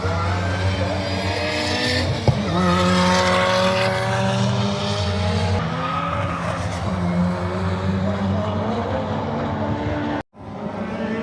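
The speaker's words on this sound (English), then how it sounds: "we've got the first practice session of the day going on the circuit just behind me" Race cars lapping Knockhill Circuit in Scotland during a practice session, a dense and continuous roar of engines near the track with rising and falling revs and occasional tyre squeal.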